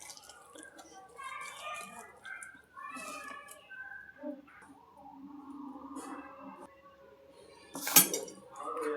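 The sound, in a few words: mixing rava idli bonda batter in a bowl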